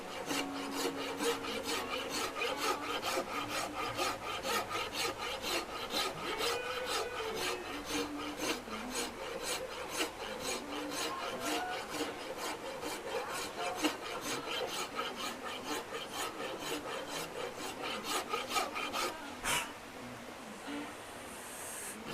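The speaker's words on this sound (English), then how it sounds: "For these instruments, I use the hoof rasp a lot." A hoof rasp files a wooden instrument in quick, evenly spaced scraping strokes, dozens in a row, close up and fairly loud, ending with one last sharp stroke before a brief quiet.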